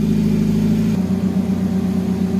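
Nissan Grand Livina engine idling during an idle relearn after a tune-up, a steady low hum close by that drops slightly in pitch and settles about a second in.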